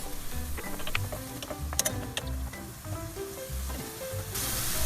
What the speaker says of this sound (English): And keep frying like this.